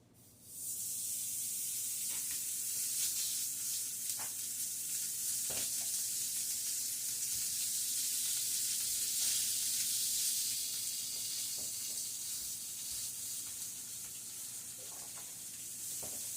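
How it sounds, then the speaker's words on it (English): Bacon and sausage sizzle in a skillet set at 350, a steady, moderately quiet hiss with occasional small pops and crackles running throughout. "This is where I'm going to cook the bacon and the sausage."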